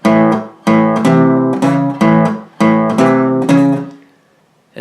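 An acoustic guitar plays the verse line of a song, strummed chords moving up the low strings in a bouncy rhythm, six loud up-close hits before the last chord rings out and fades.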